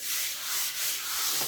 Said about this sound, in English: That's with me sanding it.